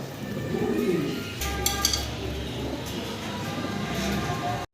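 Soft, low pigeon coos murmur through a steady hum of background noise, with a few brief clinks partway through.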